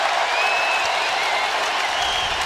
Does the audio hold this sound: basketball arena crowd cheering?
yes